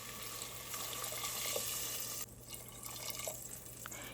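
Water runs in a steady stream as it is poured into a pot of rice and rajma for pulao, half a cup per cup of rice, with a brief break and a few clinks partway through.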